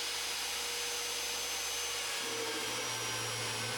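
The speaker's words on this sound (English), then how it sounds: "we're on to drilling the bolt holes for mounting the suspension" Electric drill boring bolt holes for mounting rear air-ride suspension on an International Harvester Loadstar truck, a steady high whine running throughout, its motor note dropping and shifting partway through, close and continuous with no talking.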